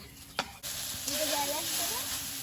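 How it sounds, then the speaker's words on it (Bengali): Chopped vegetables and egg hitting hot oil in a frying pan, a sharp clatter and then a sudden, steady sizzle that holds for a couple of seconds. "এবারে হাফ সবজি দিয়ে দেবো আর হাফ ডিম আর এক খোলায় ভাজা যাবে না"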